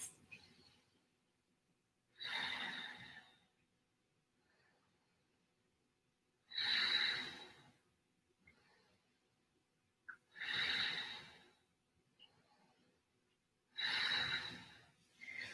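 Slow, deep yoga breaths during a seated twist with a bind, four long airy exhalations spaced several seconds apart, close and clear with near silence between them and no talking.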